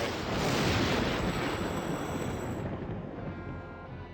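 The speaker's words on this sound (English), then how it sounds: "hopefully we can get into a situation where we won't have to hear lightning and heavy breathing" Rumbling thunder from lightning in the video game Mission Critical, a broad, heavy roll that is loud at first and slowly fades over a few seconds, with no talking.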